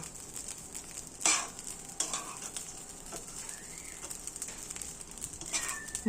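Spices being stirred into Jagannath bhog kanika as it cooks: faint scraping of a spoon in the pot over a soft, steady sizzle, with a few sharper clinks and distant bird calls.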